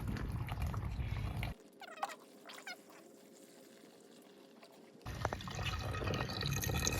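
Water from a watering can dripping and trickling down into the planting holes of a Greenstalk vertical planter, soft close drips and small gurgles between louder bursts of pouring water at the start and end.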